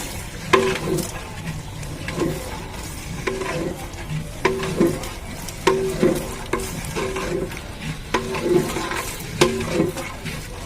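Tomatoes sautéing in a large vessel for a 25 kg restaurant-style chicken biryani: steady sizzling under regular clanking, scraping stirs of a metal ladle, close and loud, with no talk.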